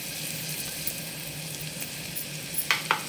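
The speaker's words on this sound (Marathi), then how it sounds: "आणि त्याला पण आपल्याला 2 मिनिट परतून घ्यायचं" Sprouted moth beans (matki) sautéing in a pan for misal pav, a steady close sizzle throughout with a couple of sharper clinks or stirring scrapes near the end.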